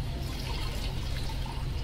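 Water streams and trickles steadily into a bucket as a soaked cleaning cloth is wrung out for washing a car's exterior, with a continuous close splashing that never lets up.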